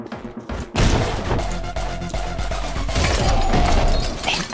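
Gunfire and impacts in the video game Anger Foot, a sudden loud burst of crashing shots and thuds after a quiet start, continuing densely to the end.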